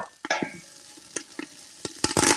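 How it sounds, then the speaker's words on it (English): Celery pieces drop into a pot of fish stock with soft thuds and clatters, followed by scattered stirring knocks and light sizzling, fairly close. "And I'm dropping some celery in there."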